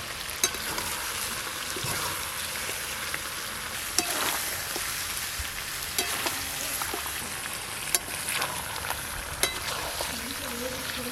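Chicken kosha with potatoes stir-frying in a pan, a steady close sizzle with repeated sharp scraping clicks of the spatula throughout.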